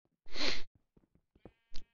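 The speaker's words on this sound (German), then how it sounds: "das ist ein Schaf" A single short sheep bleat from Minecraft sounds close and clear, followed by a few faint clicks and taps.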